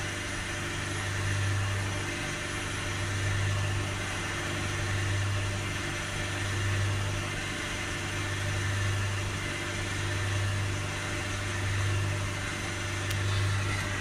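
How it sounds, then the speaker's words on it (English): A Renault Trafic diesel engine held at about 3000 RPM during DPF cleaning drones steadily and close, with a low hum that swells and eases slightly as the revs wander. No one speaks. "going to hold the revs up around sort of 3000 RPM again. and get it to stay there."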